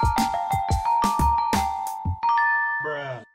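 A MIDI guitar triggers synth bell sounds: a quick run of bright, ringing bell-like notes, each struck cleanly and sustained, ending in a shimmering chord-like tone, close and loud with no talking.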